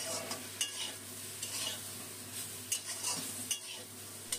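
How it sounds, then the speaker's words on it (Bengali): Ground turmeric, coriander and cumin being stir-fried with flat beans and eggplant in a little oil: quiet sizzling under repeated scraping strokes of a spatula against the pan, each stroke a short distinct scrape. "এখন এই গুঁড়ো মশলাগুলো শিম বেগুনের সাথে মিশিয়ে নিয়ে কষিয়ে নেব।"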